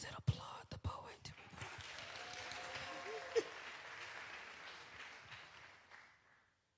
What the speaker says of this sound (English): Applaud the poet and not the score.